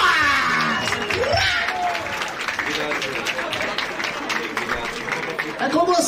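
Crowd applause and cheering at a Batalha da Aldeia rap battle, dense clapping mixed with shouts and whoops that rises at the start and keeps going, with voices talking and yelling over it.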